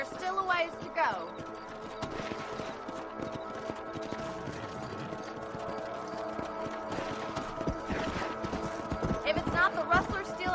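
Horse hooves clip-clopping steadily while riding in Red Dead Redemption, a continuous trotting rhythm under game music and ambient sound, with brief whinny-like accents near the start and end.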